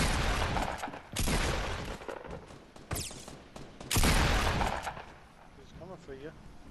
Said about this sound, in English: I think someone else is shooting at him too.